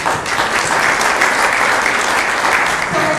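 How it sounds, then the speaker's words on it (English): A loud, sustained round of clapping from a crowd at a Rotary Club meeting in York, Pennsylvania, fills the room evenly from start to finish. "Let me hear a round of applause for that."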